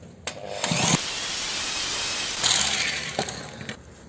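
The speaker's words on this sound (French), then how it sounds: "On y va, on perce les gars." Power drill boring a hole while securing a garage door, two sustained whirring bursts of roughly a second and about a second and a half, separated by a pause, with a few light knocks afterward, close and fairly loud.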